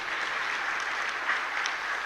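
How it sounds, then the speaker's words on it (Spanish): A church congregation at Mass in a small chapel claps steadily. The applause is brief, soft and fairly distant, with no voices on top. "Pende ganar un fuerte aplauso para esta señora."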